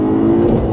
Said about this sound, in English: I'm gonna floor it. Oh, a little wheel spin there.